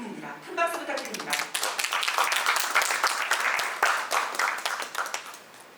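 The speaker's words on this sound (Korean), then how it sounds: "큰 박수 부탁드립니다" An audience at a youth-week event in Busan breaks into applause, with dense, lively clapping that swells after a spoken introduction and carries on steadily to the end.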